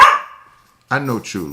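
A pet dog gives a single sharp bark indoors, close and loud, followed by someone speaking briefly.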